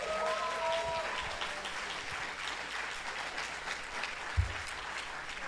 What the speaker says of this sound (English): Now you're clapping, comrades